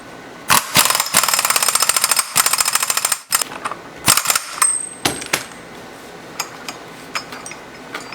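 Torquing the clutch nut on an Arctic Cat 700 H1 ATV gives a rapid burst of loud metallic clatter at close range. Scattered sharp clicks and taps follow as it winds down.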